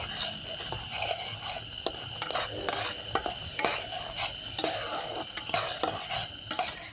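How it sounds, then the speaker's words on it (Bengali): A spoon scrapes and stirs a tomato mixture with turmeric and salt in a pan, with repeated close rasping strokes and light metallic clatter over a faint sizzle. "এবার আমি এটাকে ভালো করে মিশিয়ে নেব"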